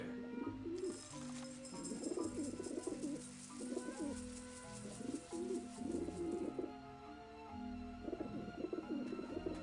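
Pigeons coo in the Grim Fandango video game, repeated soft throaty coos in short bursts over a steady background tone and high game ambience.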